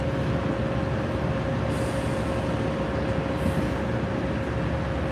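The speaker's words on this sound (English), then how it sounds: "Train's about to depart" A Red Line train starts to depart, giving a steady, loud rumble with a constant whine under it. The noise holds level throughout, with brief hissy bursts now and then.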